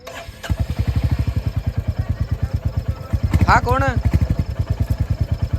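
A motorcycle engine idles with a rapid, even thumping putter, close and loud, briefly overlapped by a short rising whine or voice in the middle.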